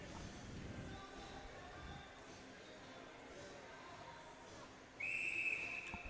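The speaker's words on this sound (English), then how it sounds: "Ref's blowing the whistle, calling for the players back to the ice" A referee's whistle shrills once, brief and sharp, late in the stretch at a Kent State versus Cincinnati college ice hockey game, above low arena murmur, with a commentator speaking earlier.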